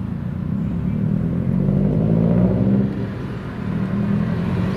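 A car fitted with a loud modified exhaust drives past outdoors at night, its deep rumble swelling and easing over a few seconds, with no talk.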